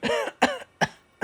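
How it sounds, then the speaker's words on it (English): A woman coughs right after her first drag of smoke from a burning tube, four close, harsh bursts with short pauses between, the first longest and the rest shorter and sharper. "she coughed a bit of the stuff up"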